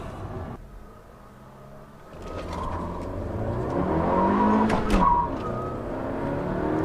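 Stock 2017 Honda Civic EXT engine pulling hard on a quarter-mile acceleration run, a steady rising drone that climbs in pitch and grows louder, close and continuous with no talk.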